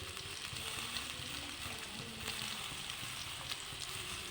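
Potato and eggplant fry in oil with a cumin seed tempering, making a faint, even sizzle with a low bubbling rumble and a few soft ticks.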